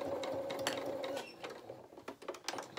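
A sewing machine runs reverse stitches along the neck edge of a small fabric otter head, its steady motor whir and needle clatter giving way to short stop-start bursts near the end.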